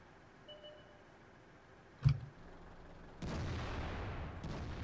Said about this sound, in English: I don't know how the artillery is still going